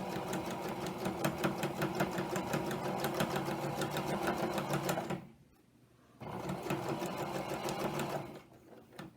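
A sewing machine stitches a quilted coaster in steady rapid bursts, running loud and close for about five seconds, pausing briefly, then running again before stopping near the end.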